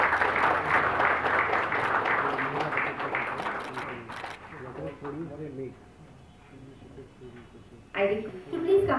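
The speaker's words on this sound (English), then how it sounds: "a huge round of applause for this moment." Audience applause at a Mail Parcel Day program, a dense steady patter of many hands for about four seconds, then fading into scattered claps and talk before a brief renewed burst near the end.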